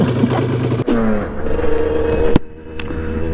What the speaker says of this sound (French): la moto elle redémarre totalement en fait